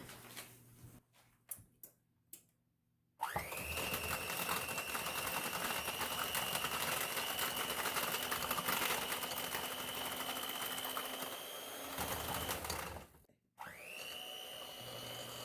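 An electric hand mixer whirs steadily, close and loud, through pineapple upside-down cake batter for about ten seconds, stops briefly, then starts again after a few clicks.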